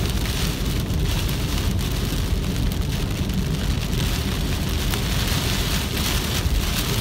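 Heavy rain pounds steadily on a vehicle driving through deep floodwater near Big Bear, a dense, continuous roar of drops on the roof and windshield with no pauses and no voices.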